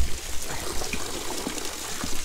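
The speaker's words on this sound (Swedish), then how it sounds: "Men bara lite färskt vatten." Steady close trickle of running water, a continuous splashing stream with no voices.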